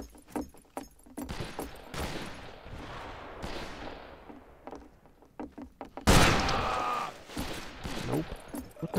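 Gunfire in the Western shooter game Fistful of Frags, with scattered sharp shots, a loud burst around the middle-late part, and players talking over the action.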